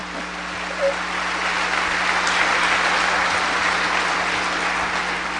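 A crowd at a hiking club gathering applauds, producing a dense, even wash of clapping that holds steady throughout, with a low background hum.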